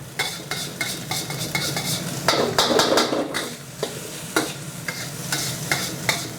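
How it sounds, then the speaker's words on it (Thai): Jasmine rice being stir-fried with nham in a wok, a spatula striking and scraping the pan in quick repeated strokes over a continuous close sizzle. "ผัดนะครับ แบบนี้ จนกว่าข้าวจะสุกประมาณ 1-2นาทีนะครับ"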